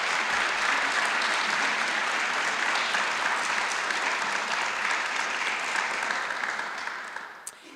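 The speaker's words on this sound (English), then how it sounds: "So one last round of applause for both of our presenters" Sustained, dense applause from a lecture audience honoring two presenters, steady and full for several seconds before thinning out near the end.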